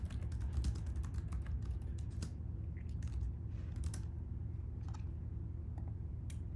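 Typing on a computer keyboard, a steady run of quick, light key clicks with short pauses, over a low constant hum, close and fairly quiet.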